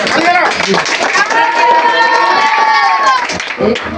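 An audience claps and cheers to welcome a speaker at a BNP anniversary gathering in Feni, a dense burst of applause mixed with crowd noise, loud and close, with voices over it.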